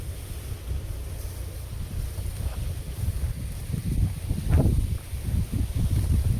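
Open-air wind gusts across an outdoor village setting, a continuous low rumbling buffet that swells and surges toward the end, loud and close against the microphone.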